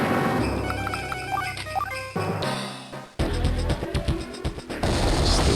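Black cannons fire in the Advance Wars 2 video game: a series of booming, crashing bursts mixed with synthesized game music, loud and dense, especially in the second half.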